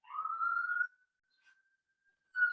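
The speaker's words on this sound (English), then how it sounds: "And a real siren outside." A siren wails outside on a street in the French Quarter of New Orleans, a rising tone of about a second, then near silence before another short burst; faint and distant.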